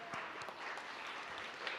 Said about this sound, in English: So big round of applause to them.